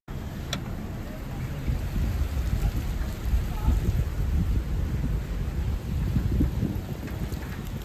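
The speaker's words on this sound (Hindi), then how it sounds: "बारिश इतनी ज़्यादा हो रही है कि बाहर कुछ दिख भी नहीं रहा है" Heavy rain pours outside, a dense, steady roar of drops beating on surfaces, continuous and fairly loud for the whole stretch with a few brief sharper spatters.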